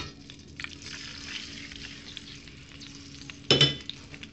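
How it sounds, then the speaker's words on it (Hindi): Steady hissing sizzle of hot oil in a pan, then near the end a sudden louder crackling burst as chicken pieces for chow mein drop into the same oil that was used for capsicum, with no talking. "इसी ऑयल में मैं डालूंगी चिकन"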